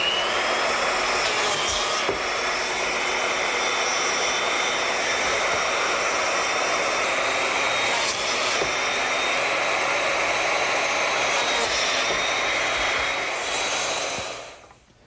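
A biscuit joiner cuts slots in board edges for a Shaker woodbox, its motor a loud, sustained high whine with a few brief bumps as the blade plunges, winding down at the end.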